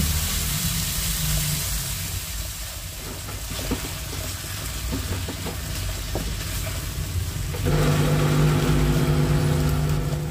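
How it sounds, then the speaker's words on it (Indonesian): Goat meat stir-frying in a hot pan for sate maranggi-style oseng, a steady close sizzle with occasional scraping stirs, growing louder near the end, no talk. "ini langsung kita oseng ya, kita panggang seperti ini teman-teman"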